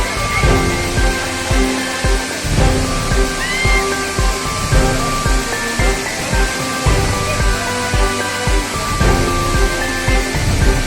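Bee Fall waterfall in Pachmarhi, a 300-foot drop, roars in a steady, dense wash of falling water, loud and continuous with no one speaking.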